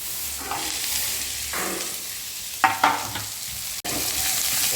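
Bitter gourd and asafoetida fry in hot oil for a tamarind kuzhambu, a dense, continuous sizzle close by, with a few spoon strokes and scrapes partway through and a sharp click near the end.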